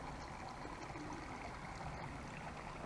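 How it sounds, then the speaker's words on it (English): Outdoor garden fountains at a gardening centre trickle and splash in a steady, even wash of water noise, continuous and moderately close, with no talking. "Water fountains, everything."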